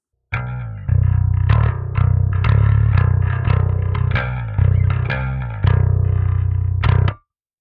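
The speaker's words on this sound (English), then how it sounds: "With the high distortion band set at default," An electric guitar runs through a Parallax X with the high distortion band at default, playing a short riff of loud, gritty distorted chords and notes that cut off cleanly at the end.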